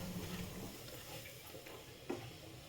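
Sugar being stirred into freshly grated wet coconut in a pan while making coconut ladoo, a soft continuous scraping and light sizzle with one brief clink of the spoon near the end, steady and quiet with no voices.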